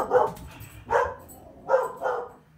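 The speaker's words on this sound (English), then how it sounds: "That's my Belgian Malinois thinking she's got to protect everything." A Belgian Malinois barks three times, in separate bursts spaced under a second apart, fairly close and moderately loud, with no talking over it.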